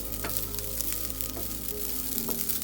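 Bengal gram (chana) roasting dry in a pan gives a steady, soft sizzle and rustle, with a few faint scrapes of stirring and no voices.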